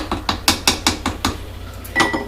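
Cookeo multicooker lid being closed and locked, a run of sharp mechanical ratcheting clicks in a steady rhythm, close and loud, followed by a couple more clunks.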